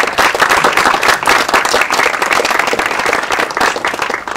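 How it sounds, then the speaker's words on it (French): An audience at a school inauguration bursts into lively applause, many hands clapping close and loud in a busy, uneven patter that holds strong throughout. "Bon, on peut vous applaudir, remarquez, Aude"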